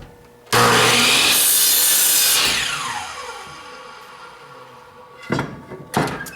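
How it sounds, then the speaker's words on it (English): A miter saw cuts through the bad end of a wooden board, a loud sustained whine spinning down over a few seconds, followed by a couple of sharp knocks as the offcut and board are handled. "I'm going to trim the bad end."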